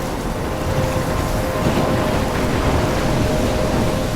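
Stormy ambience from the video game Life is Strange: a steady, loud wash of rain and rumbling thunder with a faint sustained tone running through it, continuous across the whole stretch with no talking.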